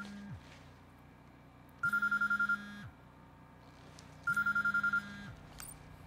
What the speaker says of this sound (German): Telefon! Was ist das?